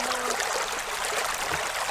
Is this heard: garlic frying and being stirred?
no